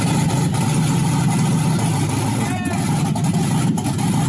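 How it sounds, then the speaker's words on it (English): A 1978 Volvo 240 fitted with a 6.0-litre Chevy V8 runs steadily nearby, its deep engine rumble droning continuously and loudly throughout. "That's my car running."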